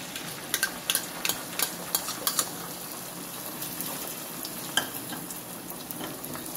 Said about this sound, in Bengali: তো দেখো আমার তেলটা গরম হয়ে গেছে, এবার আমি এর ভিতরে ডিমটাকে দিয়ে দেবো